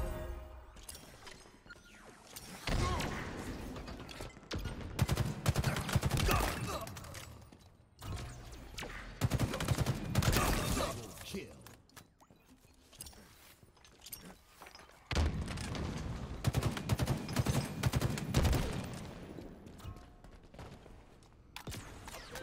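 Gunfire and booming blasts in a ranked Stronghold match of the video game Halo Infinite, coming in loud waves with brief lulls between them, while game announcer voices are heard now and then.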